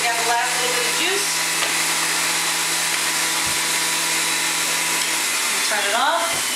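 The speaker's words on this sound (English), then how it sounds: "Wait for the motor to stop. So I can open up my juicer." Electric vegetable juicer motor running with a loud, steady, high whine and whir throughout, with a person's voice briefly audible over it near the start and the end.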